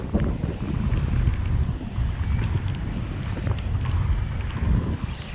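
Wind buffets steadily on an open fishing boat off Palm Beach, Florida, producing a constant loud rumble, with faint high insect-like chirps underneath and no talking.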